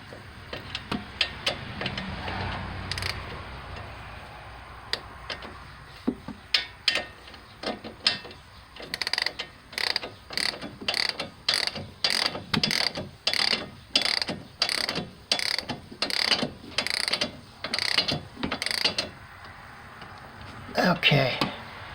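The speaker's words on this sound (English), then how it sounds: "that cut-off ratchet worked really good in this tight spot" A cut-off ratchet tightens a fastener in a cramped spot, its pawl clicking in quick rhythmic bursts of repeated strokes, loud and close, with a few scattered handling sounds.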